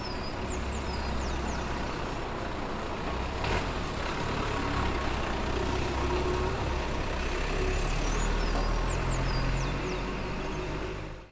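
A Toyota Bandeirante, a rugged utility vehicle, runs with a steady low engine rumble under a busy wash of outdoor noise and faint birdsong. A brief sharp knock sounds partway through.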